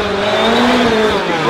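Colin Frame's Subaru Impreza WRC rally car makes its run at the Goodwood Festival of Speed, its engine roaring loud and close as the pitch climbs and dips, under a broad, noisy wash.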